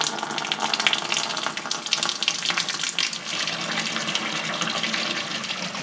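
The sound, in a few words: tap water filling a Good Ideas twin tub washing machine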